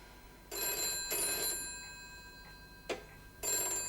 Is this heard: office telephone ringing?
yes